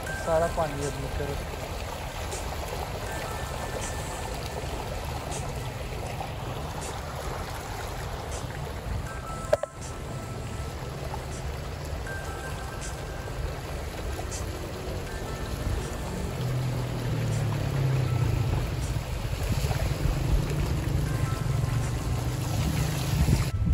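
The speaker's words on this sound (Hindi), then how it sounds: "देखा पानी अब उस तरफ को जा रहा है तेजी से।" Floodwater rushing quickly along a street in Sialkot after heavy rain, a steady broadband wash of flowing water with wind noise on the microphone, continuous throughout.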